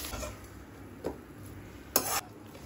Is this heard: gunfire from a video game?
no